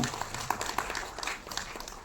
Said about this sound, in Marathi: मच्छिंद्र साठी टाळ्या होऊ देत पहिल्यांदा